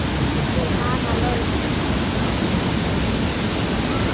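Chilanthiyar waterfall at Vattavada swollen by rain, a steady heavy roar of rushing water close by, with voices faintly talking beneath the noise.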